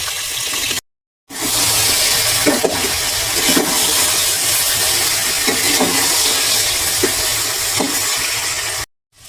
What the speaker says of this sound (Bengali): এখানে সবজিগুলো আমি দিয়ে দিচ্ছি এগুলো আসলে সুন্দর মতো ভেজে নিব